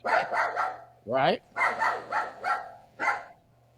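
A dog barks excitedly in a quick run of sharp, close barks with a short rising whine in the middle, mixed in with a voice.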